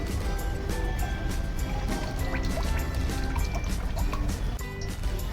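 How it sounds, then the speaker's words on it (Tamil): Coconut oil pours from a container for frying muttappam, a continuous liquid fill with faint glugs and drips under a steady kitchen background. "கொஞ்சம் காக்கனேட் ஆயில் ஊற்றிக்கலாம்."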